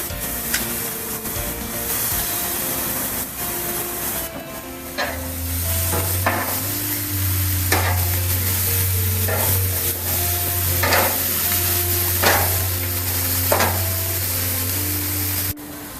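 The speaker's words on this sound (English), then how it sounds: "We're going to keep these at a medium to high in the beginning to sear and char our kebabs." Kebabs searing over medium-high heat on a grill, a steady loud sizzle with intermittent crackles and pops, joined partway through by a low continuous hum.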